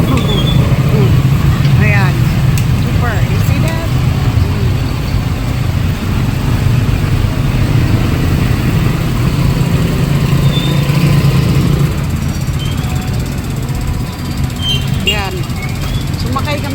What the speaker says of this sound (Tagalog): Lahat ng mga sasakyan dito, halos karamihan tricycle.